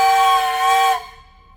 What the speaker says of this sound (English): Hey guys, you got a whistle.